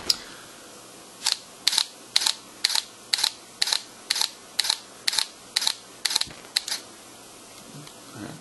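Samsung NX20 camera firing a continuous high-speed burst, a rapid run of about a dozen crisp shutter clicks at steady pace, close and loud, then stopping as it processes, with no voices.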